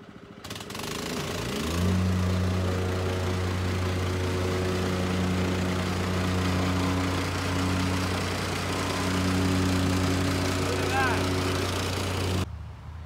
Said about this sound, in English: a gasoline-powered compactor, and it does a great job. I have it running behind me.